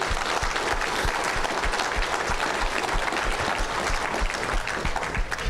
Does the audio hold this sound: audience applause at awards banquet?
yes